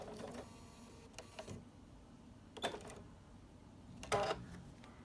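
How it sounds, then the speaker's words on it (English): Sewing machine stitching a short back stitch on quilt binding, heard as three separate brief bursts of mechanical whirring spaced apart, each a quick rattle over a quiet room. "that's where I'm going to sew to that crease. Again, a little back stitch."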